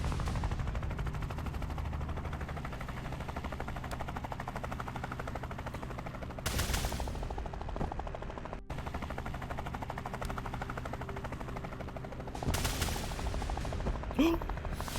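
Bursts of gunfire in the video game Tactical Breach Wizards, loud and broadband, erupting around the middle and again near the end over a steady hum of game ambience.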